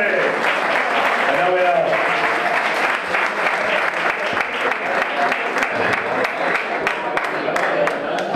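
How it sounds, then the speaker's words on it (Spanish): Audience at a flamenco club (peña flamenca) applauding for Mr. Juárez, loud sustained clapping with scattered sharp individual claps and some voices underneath. "Un aplauso para el señor Juárez."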